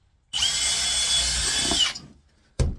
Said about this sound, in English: all I like to do is drill